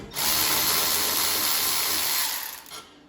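Milwaukee M12 3/8-inch cordless ratchet backing out bolts, a single steady motor whir lasting a few seconds up close, then tapering off, with no talking.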